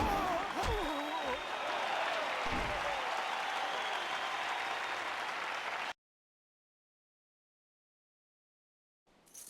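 Crowd in the Jade Empire video game arena applauds loudly in a dense, sustained wash of clapping for about six seconds with a few heavy thumps early on, then cuts to silence.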